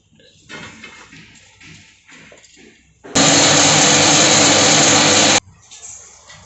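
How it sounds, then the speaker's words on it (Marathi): A loud mixer grinder grinding bread pieces whirs steadily for about two seconds, cutting in abruptly and stopping just as suddenly, with quieter handling noise before and after. "ते आता आपण मिक्सरला बारीक करून घेऊयात"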